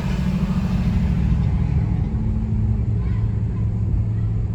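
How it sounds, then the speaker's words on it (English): A loud truck rumbles past close by, a heavy, continuous low engine drone that holds steady throughout. "Ooh, that truck loud."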